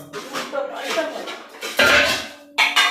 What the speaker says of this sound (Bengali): চিনির থোর একসঙ্গে পাইল হয়ে গেছে তাই নাড়তে যাচ্ছে কারিগর